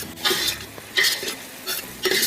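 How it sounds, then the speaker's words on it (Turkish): Onions sautéing in oil in a pot for a saffron lamb rice pilaf, with bursts of sizzling as they are stirred, three distinct stirring surges between quieter frying, close and moderately loud with no talking. "Sonra soğanlarımızı atıyoruz. Soğanımızı attık, kavuruyoruz."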